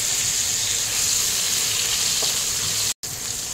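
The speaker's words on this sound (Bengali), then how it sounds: "এবার এই তেলেই কাঁচা কলাগুলো ভেজে নিচ্ছি" Raw plantains frying in hot oil sizzle in a loud, continuous hiss from start to finish, broken by one brief silent gap near the end.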